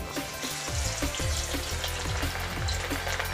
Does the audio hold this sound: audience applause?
no